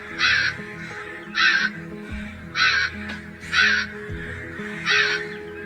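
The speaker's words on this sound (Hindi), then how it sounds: "लोमड़ी की गुफा से जोर जोर से आवाजें आ रही होती हैं कालू कौवे की।" A crow caws loudly in a cartoon story, five harsh, evenly spaced calls about a second apart, close and prominent over a quiet background.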